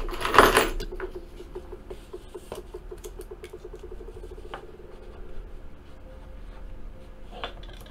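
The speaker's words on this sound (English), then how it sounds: "I got to write it down." Hand writing on paper during a trading card break, a faint run of quick scratchy pen strokes after a short louder clatter, close and quiet with no talking.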